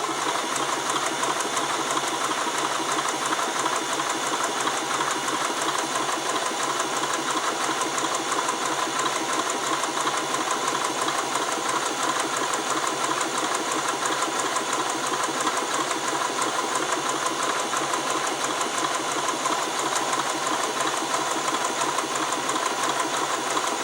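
A Swiss-made Elna 20 sewing machine stitches fabric at setting 4, its motor running in a steady, continuous whir with a rapid mechanical needle rhythm, loud and close throughout with no talking.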